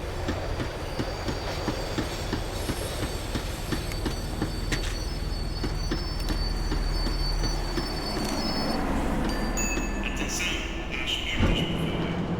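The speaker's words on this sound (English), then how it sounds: "The tram was slowing down, and I'd only just gotten on board." Tram in the video game Max Payne 3 rumbling steadily as it slows, with a continuous low rail roar, rhythmic wheel clatter and faint metallic squeals, ending in a brief clunk near the end.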